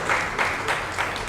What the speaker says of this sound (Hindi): तो ताली ज़रूर बजाइए इनके लिए